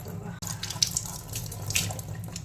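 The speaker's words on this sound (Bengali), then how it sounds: "তো চলো আমি মুখটা ধুয়ে তারপরে আসছি একবারে" Tap water runs steadily from a faucet into a sink during face washing, with scattered splashes and drips over a continuous hiss, fairly close and unaccompanied by speech.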